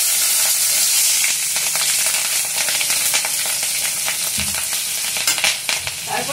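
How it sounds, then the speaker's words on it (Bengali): Black cumin and spices hit hot oil in a kadai and fry loudly, a dense, steady crackling sizzle close by with brief bursts of stirring near the end. "এবারে কড়াইতে ফোড়ন দিয়ে দিলাম হাফ টিস্পুন মতো কালো জিরে"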